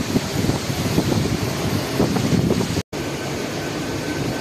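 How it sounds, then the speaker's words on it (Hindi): Storm wind and surging sea waves in Da Nang, Vietnam, heard as a loud continuous roaring rush with heavy low buffeting and microphone wind noise, broken by a brief dropout near the end and with no one talking. "समुद्र की लहरें"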